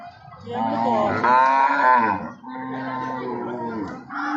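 A cow moos loudly and close by at a cattle market, two long drawn-out lowing calls in a row, with a brief pause between them.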